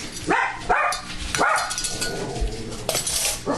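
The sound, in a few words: dogs barking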